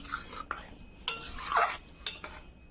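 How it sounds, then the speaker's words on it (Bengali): Semolina stirred into water in a pan for Bengali coconut pithe dough: a spoon scrapes and clinks against the pan in a few short, close strokes, with soft wet scraping between them. "সুজিটা কিন্তু না নাড়লে ডেলা পাকিয়ে যাবে"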